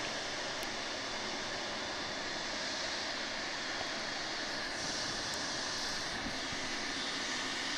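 Fixed-wing airliner engine roaring steadily at Toronto Pearson airport, a loud, continuous broadband drone with wind-like hiss that holds throughout without pause.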